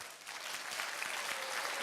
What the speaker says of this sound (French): on va commencer par applaudir les enfants d'abord